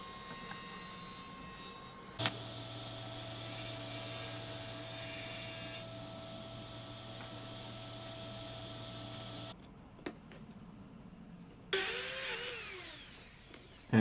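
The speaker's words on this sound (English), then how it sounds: "And I'm cutting the notch out of the top edges of these feet" A power tool cuts a notch into the top edges of wooden poplar feet for a chest of drawers: a steady, close motor whine for about seven seconds, then a quiet pause and a short, harsher burst of cutting.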